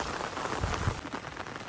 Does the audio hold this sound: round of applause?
no